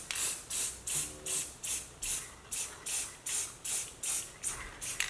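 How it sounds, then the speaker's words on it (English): A spray paint can hisses in a run of short, evenly spaced bursts, about a dozen quick sprays at moderate volume while the sides of a tray are coated. "I decided to just spray paint the sides directly"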